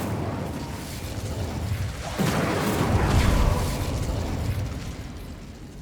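Fiery spell cast in Hogwarts Legacy: a sharp whooshing burst at about two seconds swells into a sustained roaring rumble that lingers loud, then slowly fades over steady background game ambience.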